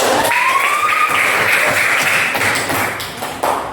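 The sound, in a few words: applause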